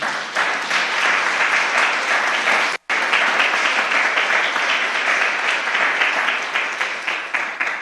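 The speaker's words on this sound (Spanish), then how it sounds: "Démosle un aplauso al Señor." A church congregation applauds loudly and steadily, the dense clapping broken only by one brief cut before continuing strong.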